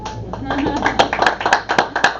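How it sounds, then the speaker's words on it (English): Audience members at a monthly magic showcase in Little Falls, New Jersey, break into crisp, uneven clapping that builds over the clip, with a voice heard at the start. "Give her a round of applause."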